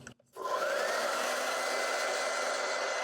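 A hair dryer switches on after a short pause and blows steadily over acrylic paint, a loud, even whooshing roar close by that holds to the end.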